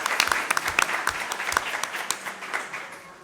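Audience applause at a Bronx Museum of the Arts event, a burst of clapping from a seated crowd that is fairly close, thinning and fading toward the end with no talking over it.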